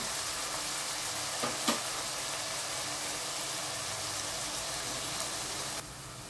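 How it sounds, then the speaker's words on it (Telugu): Onions fry in a pan for keema, a constant soft hiss of sizzling oil with a couple of brief sharper crackles early on, fading slightly near the end, and no speech. "ఉల్లిపాయలు బాగా వేగిపోయినాయి చూడండి, చక్కగా దోరగా వేగిపోయినాయి"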